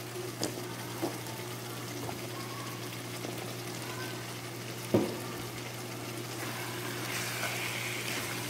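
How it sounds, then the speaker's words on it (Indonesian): Chicken meat fries in a pan for Middle Eastern-style spaghetti, giving a steady close sizzle with a low hum underneath, broken by a few soft knocks and scrapes as it is stirred. "kita aduk sampai rata dan kita akan diamkan sampai ini daging ayamnya matang"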